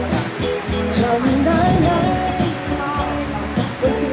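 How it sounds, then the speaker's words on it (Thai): Steady rain falls at Samet Nangshe in Phang Nga, a dense, continuous hiss of drops with a low rumbling undertone, loud and close throughout. "ตอนนี้คือฝนตกนะครับผม"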